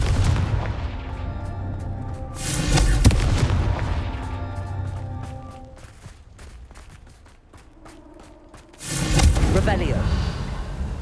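Confringo fire spells exploding in the Hogwarts Legacy video game, a series of heavy booming blasts with rumbling low-end tails, one big burst early, another near the end, and crackling debris between.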